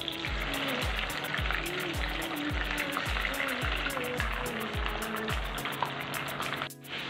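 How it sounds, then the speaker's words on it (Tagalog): Parrot fish frying in hot oil gives off a continuous bubbling sizzle with a soft, regular low thumping underneath, fairly quiet and without speech. "Mag-start na tayo mag-prito."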